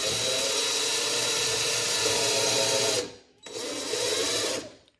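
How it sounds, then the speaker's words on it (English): A power drill bores a hole while an under-sink organizer is installed, running loud and steady for about three seconds, stopping briefly, then whirring again before cutting off. "and start drilling that hole"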